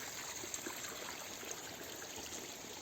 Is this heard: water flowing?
yes